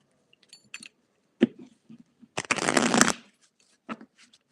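Tarot cards being shuffled by hand: a few light taps and card handling clicks, then one dense riffling burst of about a second, followed by scattered soft card sounds, close and without talk.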